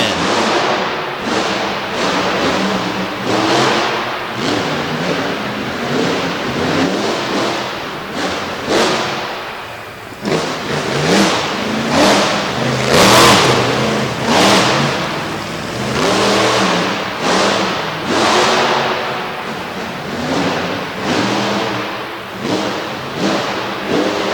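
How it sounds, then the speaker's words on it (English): A Chevrolet C10 race truck revs hard on a destruction-derby run in Corbin, its loud engine roaring continuously amid thumps, crashes and crowd noise throughout. "Stevie laying down a shot in the old C10."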